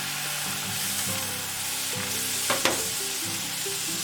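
Butter and maida flour sizzle steadily in a pan, close up, while a spoon stirs and scrapes through the mixture with a couple of sharper knocks against the pan.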